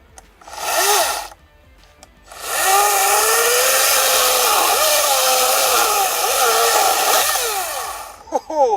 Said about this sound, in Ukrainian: давайте зараз поглянемо, як вона пиляє